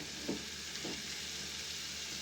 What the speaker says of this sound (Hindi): ये हमारा अदरक लहसुन बहुत अच्छी तरह भुन चुका है